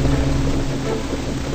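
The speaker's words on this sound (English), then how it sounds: "There is a storm. Be careful!" Steady rain and rumbling storm noise in the Little Baby Panda Ship game, a continuous loud wash of rainfall with low thunder-like roar throughout, no voices.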